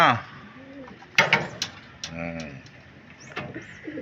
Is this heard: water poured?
no